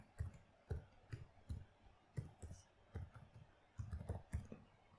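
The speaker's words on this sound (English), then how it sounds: "And type in the title," Soft typing on a computer keyboard, close and quiet, a steady series of separate key clicks in short bursts with brief pauses.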